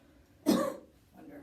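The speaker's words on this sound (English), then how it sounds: "now show me a good cough" One single forceful cough from a patient with Parkinson's, close up, in an otherwise quiet room.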